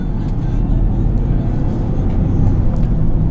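A stock 1990s manual executive car with a 4G63 engine holds second gear at about 3,000 RPM, giving a steady, loud low engine drone on an open road with no traffic.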